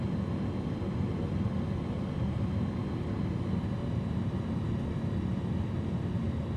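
Zlin Savage Carbon light bush plane engine in Microsoft Flight Simulator, holding a steady, even drone with some power in on approach to an Idaho backcountry strip, constant and unbroken with no talking over it.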